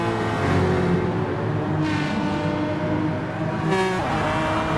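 A Jaguar race car in a racing video game at the Red Bull Ring roars loudly with a sustained, rising engine note, broken by two quick gear-shift dips as it accelerates.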